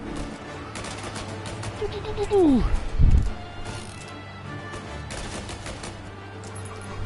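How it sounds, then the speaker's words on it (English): Gunfire in Mafia: Definitive Edition, a handful of rapid shots fired in quick succession with a louder burst partway through, mixed under a player's voice talking over the game. "Absolutely spamming the shoot button."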